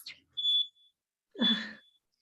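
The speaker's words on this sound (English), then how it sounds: "My fire alarm's going crazy today." A home fire alarm chirps in the background, two short high beeps separated by about a second, faint and thin behind an otherwise quiet room.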